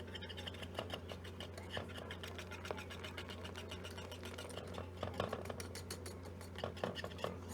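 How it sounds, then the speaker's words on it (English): A whisk scrapes and clicks rapidly against a bowl while brigadeiro candy mixture is beaten, a quick, fairly faint rhythmic rattling under a low steady hum. "And I'm just going to whisk this together."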